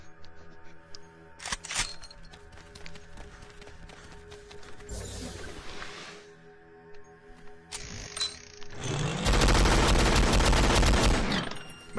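Turret gun firing in the video game StarForge, heard as dense bursts of rapid mechanical rattling fire that hits hard near the middle and swells to a long, loud barrage toward the end, with clanking and ratcheting between bursts.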